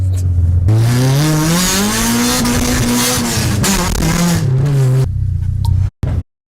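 A car engine revs hard and steadily up close with a loud, rising and falling roar, then cuts off into a few sharp exhaust pops and bangs at the end.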